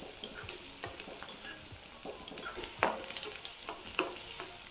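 Chopped onion stirred and fried in a pan for a dhaba-style matki bhaji, steady close sizzling with repeated scraping strokes of a spoon against the metal, no voices.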